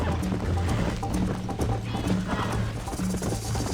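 Hooves pound in a fast, rhythmic gallop close by in the video game Red Dead Redemption, with a horse snorting and whinnying over the beat, and some speech mixed in.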